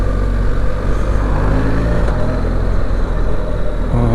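A BMW R1300 GS motorcycle with automated shift revs and pulls away, its engine note loud and close, rising in pitch with a shift partway through, and no voices heard.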